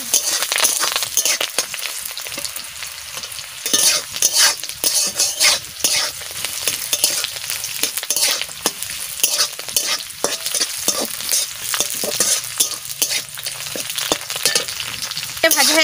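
Three dried red chillies and curry leaves crackle and sizzle in hot oil, with loud repeated scraping and stirring strokes against the pan throughout, close up and without talk.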